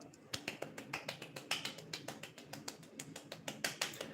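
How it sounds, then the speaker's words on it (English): Quiet, polite golf clapping: a steady run of soft, light claps repeated quickly and evenly, faint and close, with nothing else going on. "Golf clap, golf clap."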